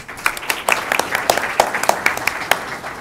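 A modest audience at a university panel on mining in Peru gives sparse, scattered applause, distinct individual claps rising out of a quiet room in an irregular patter.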